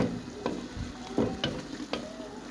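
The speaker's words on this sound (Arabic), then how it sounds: "ها هو بدا كيتقلى ليا الدجاج، كنخليه يشرب داك العطريه مزيان وكيتقلى" Chicken sizzling in ghee in a pot for couscous, a steady low frying crackle with a few louder stirring scrapes at intervals, no talk.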